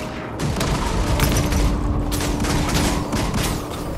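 Heavy booming fire rumbles through a battle in Guild Wars 2, a dense, continuous barrage of blasts and crackling shots that stays loud and close for the whole stretch.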